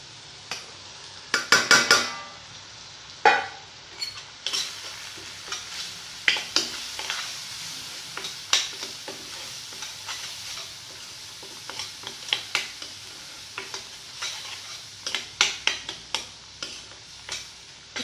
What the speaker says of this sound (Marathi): तर आपल्याला हे मंद आचेवर तेल सुटेपर्यंत आपल्याला हे मसाला व्यवस्थित भाजून घ्यायचा आहे।